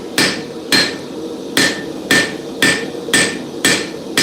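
A blacksmith's hammer forges the edge of a chef's knife with eight steady, ringing strikes at an even rhythm, loud and close with no talk.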